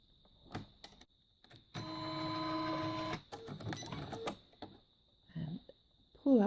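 Embroidery machine quilting a design, giving a short run of steady tonal whirring, then irregular clicks and taps, with faint sounds of handling.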